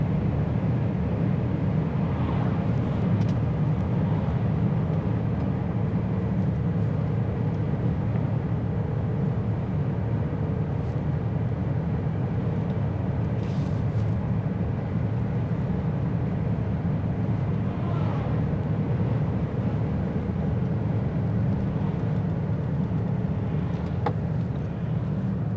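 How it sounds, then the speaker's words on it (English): Steady wind noise and low road rumble fill the cabin of a 2021 Lincoln Aviator at driving speed, a constant broadband hiss that holds evenly throughout with no talking. "There is some wind noise right now"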